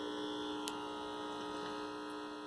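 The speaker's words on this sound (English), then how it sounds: "Oh, I hear my test generator there." A steady electronic tone from a test signal generator at 98.5, heard through a seven-tube AM/FM vacuum tube radio, with constant hum and hiss, unchanging throughout with no voices.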